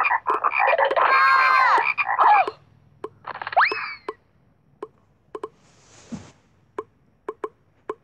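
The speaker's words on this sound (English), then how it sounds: "And the frogs." Frogs croaking in a children's Bible story about the plagues of Egypt, a dense burst of overlapping croaks followed by a wet plop and a run of separate short croaks spaced out toward the end.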